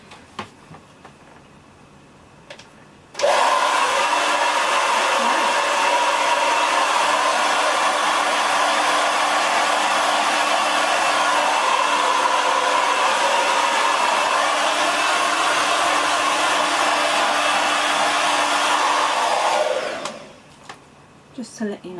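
A hair dryer with its nozzle removed switches on and blows in a loud, steady whoosh for about seventeen seconds while drying hair, then cuts off, leaving quiet room sound at both ends.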